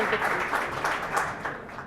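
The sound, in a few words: applause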